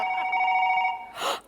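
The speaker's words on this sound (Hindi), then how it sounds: "बच्चे के स्कूल से फोन।" A telephone bell rings steadily for about a second, a clear tonal trill, then breaks off into a short burst of noisy voice or gasp.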